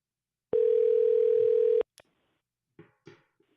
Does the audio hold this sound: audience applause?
no